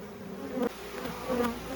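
Honey bees from a hive cutout buzz steadily and close, with the drone swelling in two louder bursts as the swarm stirs on a board beside a Layens hive.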